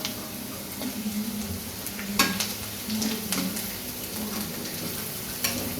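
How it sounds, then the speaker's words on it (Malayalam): Turmeric and spices frying in a pan for a spicy potato curry, with steady sizzling under a few sharp scraping strokes of a spoon as the mixture is stirred, close up and without talk. "ആ സ്മെല്ലും മണങ്ങളൊക്കെ ഒന്ന് പുറത്ത് പോകാൻ വേണ്ടിയിട്ട് നല്ലപോലെ ഒന്ന് ഇളക്കി കൊടുക്കും"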